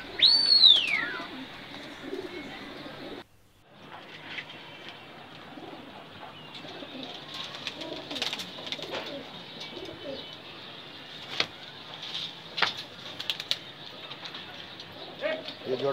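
Pigeons coo repeatedly at a bustling pigeon market, soft throaty calls mixed with chirps and occasional wing flaps, while people talk nearby throughout.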